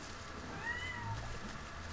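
A pet cat meows faintly in the background during a Final Fantasy XIII-2 demo playthrough, a single drawn-out call with low room noise and no talk over it.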